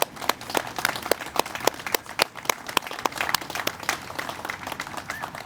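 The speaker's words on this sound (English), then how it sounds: "I'd like to give them a round of applause if you'll join me" Audience at a press conference on a ballpark station area plan breaks into sustained applause, a dense patter of many hands clapping steadily for several seconds at moderate distance.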